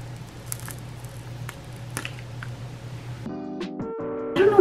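Plastic wrap comes off an Anastasia Beverly Hills eyeshadow palette up close in a quiet room, heard as soft crinkles and small taps that grow louder and denser toward the end, with no talking.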